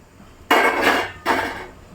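A metal lid is lifted off an idli steaming pot on a small stove, releasing two close bursts of hissing steam with faint metallic clinks.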